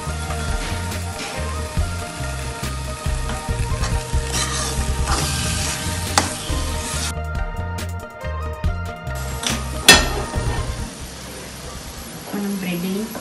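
A spoon stirs a sizzling pav bhaji mixture in a hot pan, with steady scraping, rhythmic stirring and frying crackle throughout, while someone talks over the cooking.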